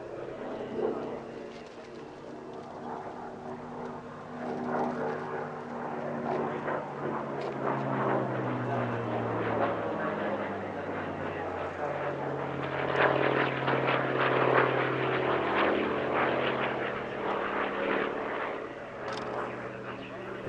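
A Hawker Fury ISS single-seat fighter flying at an airshow, its piston engine drone rising and falling with shifting pitch as it passes, fairly distant, with a commentator talking over it.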